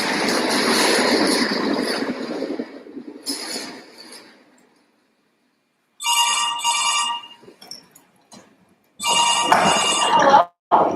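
A telephone ringing on stage during a live musical performance, bursts of bright electronic trilling ring separated by silent gaps, fairly close and loud, with a voice heard at the start.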